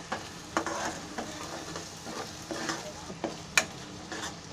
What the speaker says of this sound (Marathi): कांदा फक्त भाजायचा पहिला तेलामध्ये